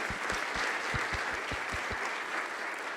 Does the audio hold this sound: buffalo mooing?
no